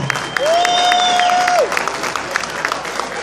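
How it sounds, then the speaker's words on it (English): A crowd at Bronx Day in Albany gives elected officials a round of applause. The clapping is scattered and moderately loud, and a long, high sustained whistling tone rises above it before fading. "Let's give the elected officials who are not from the Bronx a strong round of applause."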